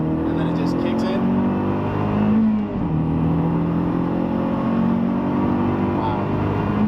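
A turbocharged 400 HP big-turbo Mazdaspeed3 pulls hard in third gear from about 40, its engine droning loudly and rising steadily as the turbo spools, heard from inside the car with a voice talking.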